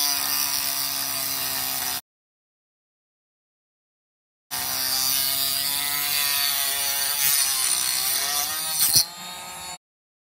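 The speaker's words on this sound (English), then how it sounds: "using the Dremel to create a cut from the bottom corner of the chest to the top corner" A Dremel rotary tool cuts a corner-to-corner groove into a miniature chest objective, giving a steady, close, buzzing whine in two long passes separated by a silent pause, with a brief sharper bite near the end.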